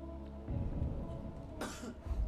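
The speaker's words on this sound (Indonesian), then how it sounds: "suara batuk kecil terdengar dari penonton" A single small cough from a television quiz show studio audience rises briefly out of a quiet, murmuring room, soft and somewhat distant.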